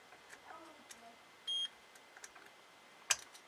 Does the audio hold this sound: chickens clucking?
no